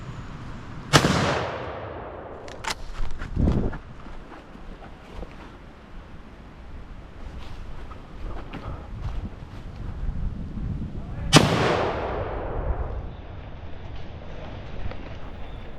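Two rifle shots during a wild boar hunt in Normandy, loud sharp cracks spaced about ten seconds apart, heard outdoors over wind noise and faint rustling.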